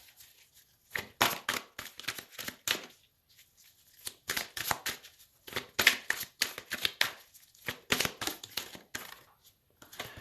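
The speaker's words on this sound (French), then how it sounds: "je vais retirer une ou deux cartes pour voir, pour compléter un petit peu le tirage" Tarot cards drawn one by one from a deck during a reading, giving soft papery slides and light snaps in short bursts, close and fairly quiet, with pauses between draws.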